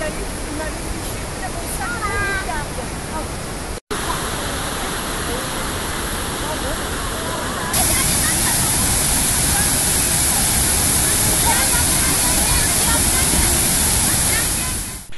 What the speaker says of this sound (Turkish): gürül gürül akan Muradiye Şelalesi'nde